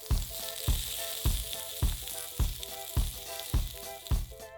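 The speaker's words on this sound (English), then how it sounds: "pour this over the top so that those spring onions get like sizzly and stuff" Hot oil sizzles and crackles loudly over spring onions, with sharp rhythmic bursts roughly every half second as more is poured over, no voices.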